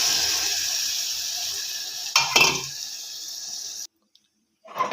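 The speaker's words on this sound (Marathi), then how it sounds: "आता ह्याच्यामध्ये गरम पाणी घालून घ्यायचं आहे." Hot water poured into a cooking pot of spiced mutton masala, a steady hissing sizzle and splash that surges briefly, then cuts off abruptly before a faint stir.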